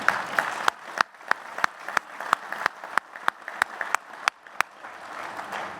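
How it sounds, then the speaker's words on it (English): Scattered, sparse clapping from a conference audience at a labor union legislative gathering, individual hand claps ringing out irregularly over a soft room murmur. "That's right, that's worth clapping about."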